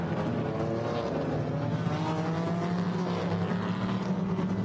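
A BMW GT4 race car at the Nürburgring, its engine roaring steadily at high revs over the curb as it runs wide, a continuous loud drone mixed with other cars nearby, no voices.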